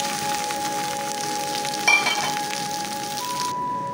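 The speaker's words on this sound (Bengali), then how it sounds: "তো এখন এগুলোকে ভেজে নেব।" Leftover cooked rice fries in a pan with a steady, close sizzling hiss; a brief clink of a utensil sounds midway, and the sizzle thins out near the end.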